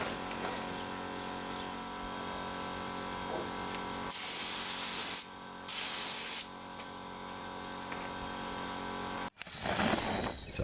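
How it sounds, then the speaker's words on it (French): Aerosol spray can painting a car wing and bumper during bodywork repair: loud hissing bursts close by, one long spray, a brief pause, then a second spray, over a faint steady hum. "Je poursuis ensuite à la bombe le travail sur l'aile et le pare-choc"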